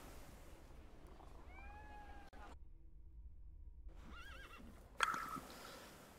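A horse neighs in The Thaumaturge game, a short rising-and-falling whinny heard moderately close over steady ambient background, followed by a brief silence and another tonal call.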